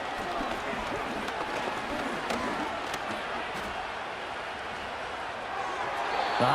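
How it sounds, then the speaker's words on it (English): Stadium crowd roar in the Madden 26 football video game during a 49ers vs Texans matchup, a steady dense wash of crowd noise that swells slightly at the end, with no distinct voices on top. "this crowd trying to force a false start here"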